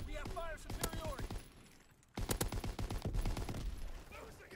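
A Lewis light machine gun fires in a video game, rapid bursts of close gunshots in two clusters separated by a short pause, with someone talking over the shooting.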